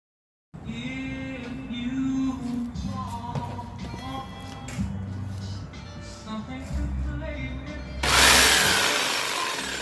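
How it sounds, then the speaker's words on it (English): A jigsaw cuts through wood for a large TV unit with a walnut countertop, giving a steady buzzing, rasping drone that shifts in pitch as the blade works, close and loud, ending in a brief louder burst. "all I have to do is take my jigsaw and cut it up"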